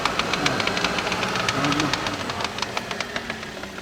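Rapid, steady ticking knock from the drivetrain of a running Daihatsu Terios 4x4, repeating evenly throughout with a low mechanical hum underneath.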